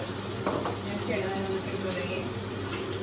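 Onions go into a pan for a Kerala-style kappa beef curry and fry with a steady, even sizzle, close and moderately loud, with faint clinks and brief kitchen sounds mixed in.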